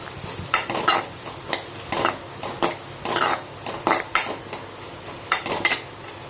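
A spoon scrapes and knocks rhythmically against a pan while paneer gravy masala is sautéed, clattering strokes over a low sizzle, close and without talk.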